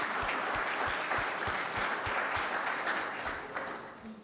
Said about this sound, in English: And Daryl, we need to give Daryl another round of applause as our Champion of Character.